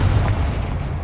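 Confringo explosive spell cast in Hogwarts Legacy: one deep, loud boom with a rumbling tail that fades within a second, heard alone with no voices.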